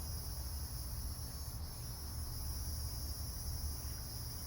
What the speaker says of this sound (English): How much can I hear random crickets